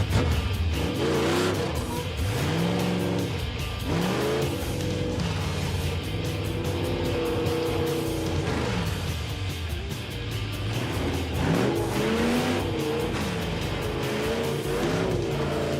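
A 1967 Pontiac Firebird is driven hard through a turn, its engine roaring and revving loudly and steadily, with rising and falling pitch as it accelerates and some tire squeal, with no talk over it.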